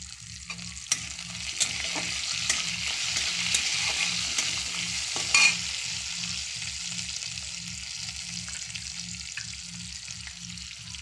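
Chopped green chillies fry in a pan for masala dosa: a soft, steady sizzle with occasional sharp clicks and one louder stir midway, over a low background hum.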